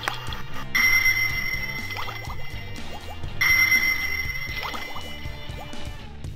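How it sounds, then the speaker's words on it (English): The True Heroes Sentinel 1 toy attack submarine plays electronic sonar pings, two bright ringing tones that each sustain and fade, over a bubbling, watery electronic background. "Sound effects include sonar pings,"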